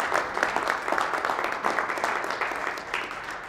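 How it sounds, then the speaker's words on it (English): Applause from a Rotary district gathering audience, a steady wash of many hands clapping at moderate volume throughout, with no talk over it. "that's the one applause line that deserves some applause"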